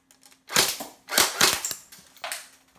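A G3 SAS semi-electric airsoft BB gun fires about three sharp, snappy shots spaced roughly half a second apart, close and distinct, with a faint hum between them.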